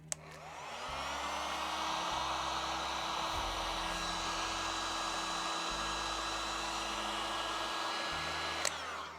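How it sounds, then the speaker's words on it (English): A heat gun runs steadily and loudly through the whole stretch, a constant blowing whine used on 3D puff embroidery on a hat, with brief clicks at the start and near the end as it switches on and off. "Got the heat gun out."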